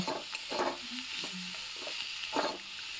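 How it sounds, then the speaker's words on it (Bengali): Fried eggplant is stirred into cooked mustard greens with a spatula, giving soft scraping, repeated strokes over a faint steady sizzle, close by and moderately quiet. "এবার এটা আমি শাকের সাথে ভালো করে মিশিয়ে নেব"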